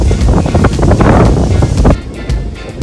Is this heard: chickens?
no